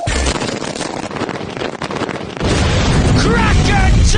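A caravan is blown up with aluminium flash powder, a loud sustained roaring blast that rumbles on and swells into heavier low-frequency debris noise, with faint voices near the end.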